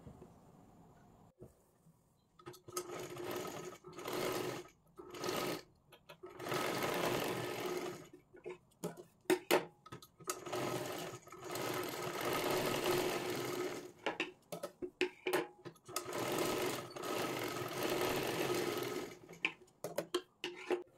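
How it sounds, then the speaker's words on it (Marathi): Sewing machine stitching a rounded neckline on a small baby girl's frock, running in many short and long bursts of fast rattling whir separated by brief stops, close and clear. "गोल आकारमध्ये व्यवस्थित आपल्याला गळ्याला शिलाई मारायची आहे"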